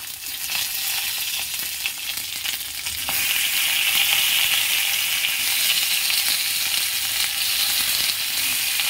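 Slit green chilies frying in hot oil give a steady, loud sizzle that runs the whole time and swells a little partway through, with faint stirring and no voices.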